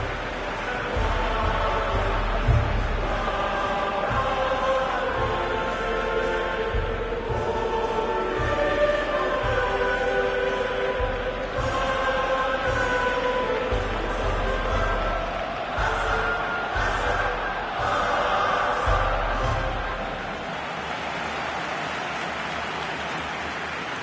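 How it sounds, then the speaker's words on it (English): A capacity crowd sings hymns in the Camp Nou stadium in a Barcelona versus Liverpool football video game, a dense, continuous roar of massed voices that fades slightly near the end. "Blue and burgundy wherever you look, hymns ringing loud and proud."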